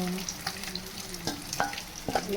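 Fish pieces fry with tomato and paste in a pan, giving a soft sizzle with a few spatula scrapes and clinks as the mixture is stirred.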